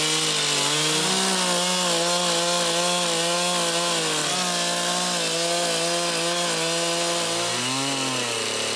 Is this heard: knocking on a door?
no